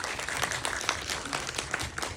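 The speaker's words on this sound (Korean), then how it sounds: "다시 한번 뜨거운 박수 부탁드립니다" Steady applause from a crowd at a Korean film cast and director event, many hands clapping continuously at moderate volume.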